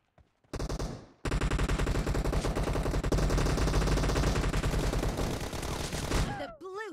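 Long, rapid automatic gunfire bursts from a PUBG team deathmatch, a near, loud, evenly pulsing stream of shots that starts after a short burst and pause, then rolls on for several seconds before cutting out.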